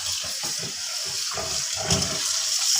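Rice is washed in water for chicken biryani, with continuous splashing and running water close up, swishing and sloshing steadily with no talk.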